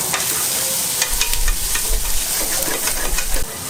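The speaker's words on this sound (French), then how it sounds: "On fait revenir les oignons jusqu'à ce qu'ils soient translucides" Half an onion, finely chopped, sizzling and frying in butter in a pan, with a steady hiss and occasional stirring scrapes, close and fairly loud, no talking.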